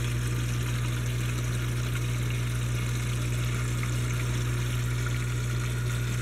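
An Odyssea CFS 500 canister filter on a turtle tank runs with air trapped inside, giving a loud steady low hum under constant gurgling, hissing water noise.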